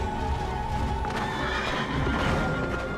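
A horse whinnies in Final Fantasy XIV, a brief neigh over a dense, loud wash of game music and ambience.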